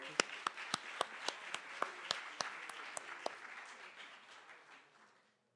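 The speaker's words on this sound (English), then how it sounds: "Clap it up for him one more time, y'all." Applause for a graduate at a YouthBuild St Louis City commencement ceremony: a few sharp, distinct claps over a soft bed of clapping that fades out, fairly faint and without talk.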